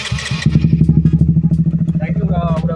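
A Honda CBR K45A motorcycle engine warming up at idle, throbbing in a steady, fast, loud pulse close by, with a brief voice over the start.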